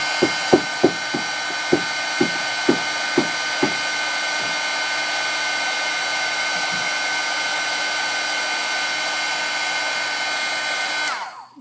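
A heat gun blows a loud, steady whooshing roar at close range while embossing powder is melted onto a small tag, with a few light taps at the start, then cutting off at the end.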